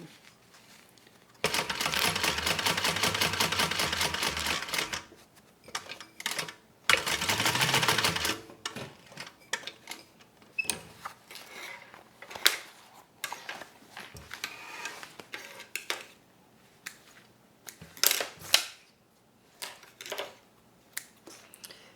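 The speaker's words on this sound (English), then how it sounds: "And I'm going to stitch as close to the zipper as I can." A sewing machine stitches along a bag seam close to a zipper, running in two short bursts of a few seconds each, followed by quieter handling clicks and rustles of fabric.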